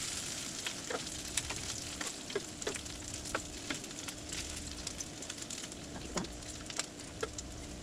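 Bacon sizzles and crackles steadily in a pan, with soft irregular pops over a continuous hiss, close and fairly quiet, no voices.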